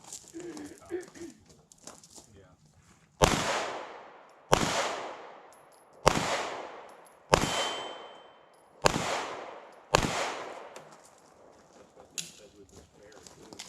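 Six evenly spaced handgun shots ring out on a shooting range, each sharp crack followed by a long, fading metallic ring from steel targets, with quiet speech faintly audible between shots.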